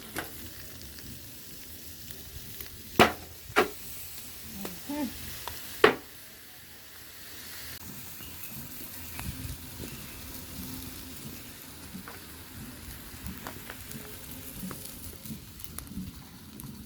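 Food roasts on a hot zinc sheet in a Jamaican backyard, a steady crackling sizzle with a few sharp knocks and clatters early on, close and moderate in level, with faint voices in the background.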